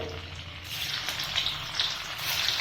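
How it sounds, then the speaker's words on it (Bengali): Paneer pieces coated in salt and turmeric sizzle as they go into hot oil in a pan, a soft, steady crackling hiss with faint spattering that runs throughout. "তো তেল গরম হয়ে গেছে, এখন আমি ধীরে ধীরে পনিরগুলো দিয়ে দেবো"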